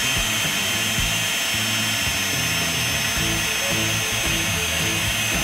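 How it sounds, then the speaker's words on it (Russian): Dental micromotor fitted with a straight handpiece and a bur, running steadily at high speed with a continuous whirring hum and no pauses, heard close up on its own. "Включаем микромотор."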